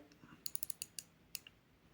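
Cheap Turtle-style homage dive watch's rotating bezel clicks quietly back to the 12 position: a quick run of five or six sharp ratchet clicks, then a couple of isolated ones after a pause, close and small.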